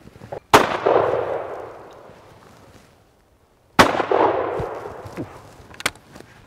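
Two loud shotgun blasts fired at sporting clay targets, each a sharp crack followed by a long rolling outdoor echo, separated by about three seconds of quiet.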